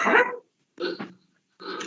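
A dog barks three times, close and clear, over an open microphone during a council planning committee meeting, each bark short with brief silence between.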